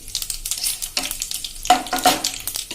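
Curry leaves and sesame seeds, about a tablespoon, sizzle and crackle in hot oil for a bottle gourd muthiya tempering, with a bright hiss that flares up loudly partway through, alongside some stirring.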